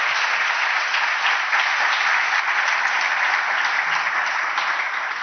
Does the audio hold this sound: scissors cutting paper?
no